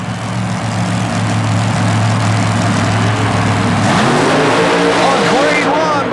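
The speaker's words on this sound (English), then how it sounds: "This is Iowa's Byron Tinkey, the supercharged, fuel-injected, Chevy-powered 1932 Chevy coupe called Bad Habit." A supercharged, fuel-injected, Chevy-powered 1932 Chevy coupe race car roars at full throttle during a 1991 mud race in Worcester, Massachusetts, a loud continuous engine drone climbing in pitch toward the end, with a crowd and announcer talking underneath.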